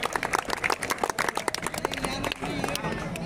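Lively clapping from a crowd at an outdoor kabaddi match, dense and uneven under a loud announcer's voice welcoming the selected players.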